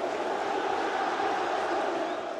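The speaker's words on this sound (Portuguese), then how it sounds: "Torcedor aplaude a jogada do Marrone." Football fans in a stadium during a Vasco versus São Paulo match applauding a play, a steady, distant roar of crowd noise that holds evenly throughout.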